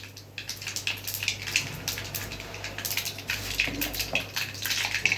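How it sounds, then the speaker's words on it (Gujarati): Mustard seeds crackle and pop in hot oil as tempering for a potato curry, a dense patter of sharp little bursts over a soft sizzle, fairly quiet. "જે રાઈ ફૂટી ગઈ છે"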